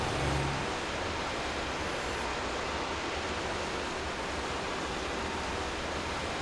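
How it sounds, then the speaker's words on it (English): Steady, broad rushing water from a waterfall in a Pokémon game area, a constant even roar with no breaks and no one talking. "Nice little waterfall over here to the left."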